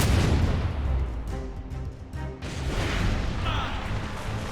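Heavy ship cannons on a sailing vessel in Assassin's Creed Rogue boom amid continuous rumbling battle noise and wind, with dull, loud blasts blending into a dense roar rather than standing out as sharp separate shots.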